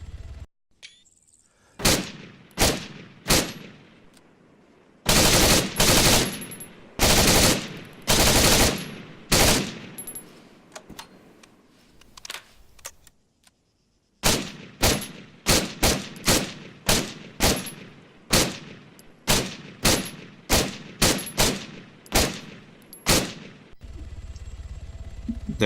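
Gunfire from shooting targets in Arma 3, sounding as sharp shots in bursts and single cracks, loud and close, with a short pause before further bursts, and no talking.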